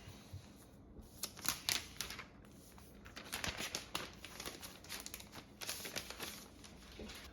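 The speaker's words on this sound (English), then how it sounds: "so let's unwrap this" A new M1 MacBook Pro in space gray is unwrapped, with quiet, close crinkling and rustling of packaging broken by bursts of sharp clicking and tearing, in uneven spurts and without talking.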